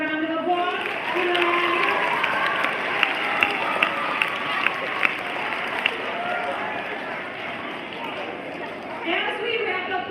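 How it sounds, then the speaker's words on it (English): A crowd applauding steadily at a school assembly, with scattered cheers and sharp claps rising above the sustained clapping, filling a large room. "Let's give them a round of applause."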